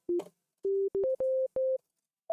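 An audio plugin produces a sine-wave test tone as a series of pure, steady beeps at a few slightly different pitches, each short and separated by silence, with no voices.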